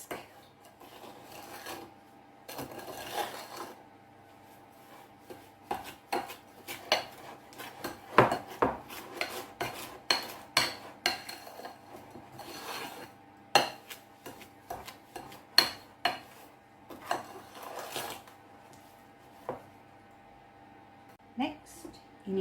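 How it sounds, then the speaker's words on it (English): A whisk scrapes and clinks against a bowl while cake ingredients for a Christmas cake are creamed together by hand, in irregular bursts of close rasping strokes with quiet pauses between them. "You need to cream these two together. You may do this by hand"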